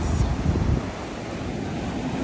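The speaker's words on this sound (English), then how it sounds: "And there is the Caribbean Sea." Caribbean Sea waves at a Jamaican beach near a cruise-ship dock, heard as a steady roar of surf mixed with heavy wind buffeting the microphone, loud and continuous throughout.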